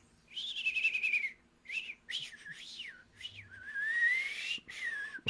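A person whistles a rapid series of warbling, rising and falling electronic-style beeps and trills in imitation of the R2-D2 droid, in several bursts with short pauses, close and clear.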